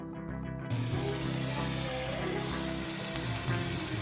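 Chicken cooks without added water in a covered pot, sizzling loudly and continuously at close range, with a constant crackling hiss and no voices.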